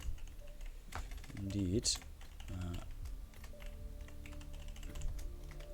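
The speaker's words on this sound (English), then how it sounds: "Just gonna quickly finish typing the announcement" Computer keyboard keys clicking in quick irregular bursts, quiet and close, while a commentator speaks briefly over a low background hum during a video game tournament broadcast.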